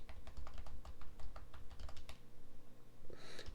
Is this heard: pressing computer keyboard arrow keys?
yes